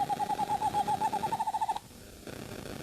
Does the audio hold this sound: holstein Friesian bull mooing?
no